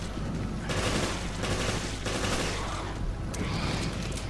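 Gunfire in Resident Evil Revelations crackles in dense, repeated bursts, several loud shots clustered together with brief pauses between volleys, over a constant background rumble.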